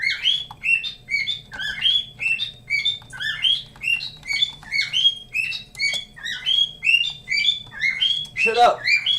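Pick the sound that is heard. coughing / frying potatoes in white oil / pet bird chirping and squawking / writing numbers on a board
pet bird chirping and squawking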